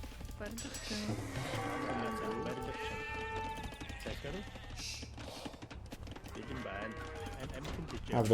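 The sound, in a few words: sheep bleating in Age of Empires video game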